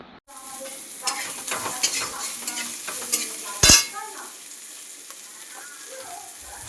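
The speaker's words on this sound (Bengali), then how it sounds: "এই চিংড়ি ভাজা হয়ে গিয়েছে" Shrimp fry in a hot pan and are stirred, with a constant bright sizzle, repeated utensil scrapes and a sharp loud burst midway, close to the listener.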